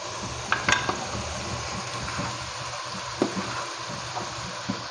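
Minced meat keema fries in a pan, giving a steady loud sizzle with occasional clinks and stirring scrapes from a utensil. No one is speaking.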